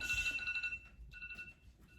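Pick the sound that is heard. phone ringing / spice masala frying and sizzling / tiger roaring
phone ringing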